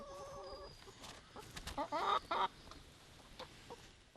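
A small backyard flock of about a dozen free-range chickens clucking and squawking near a rural homestead coop, a few sharp bursts standing out over a quiet, faint outdoor background.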